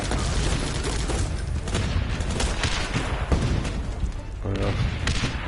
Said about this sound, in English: Somebody firing grenades, and somebody with a minigun and a sniper.